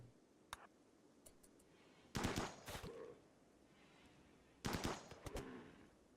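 Gunfire from a RimWorld colony battle against boom rats and boomalopes: two loud bursts of rapid shots, each lasting about half a second, with a few faint clicks and single pops in between.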